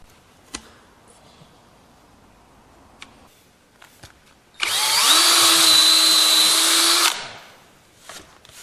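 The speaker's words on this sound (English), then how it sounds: "Countersink those so they're nice and clean" A power drill countersinks holes in a hardwood oak vise on a crosscut saw filing bench. It whines loudly and close for about two seconds between quiet stretches broken by a few light knocks.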